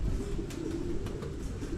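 Pigeons cooing during a training flight, low soft coos under a steady outdoor rumble, close by, with a few faint higher bird calls and no talking.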